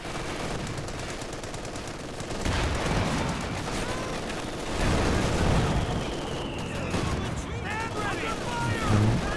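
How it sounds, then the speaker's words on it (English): Machine gun fire and explosions fill a Company of Heroes 2 battle, with rapid bursts and blasts over a roaring backdrop while a commentator talks throughout. "Machine gun in a nice position here with the suppression."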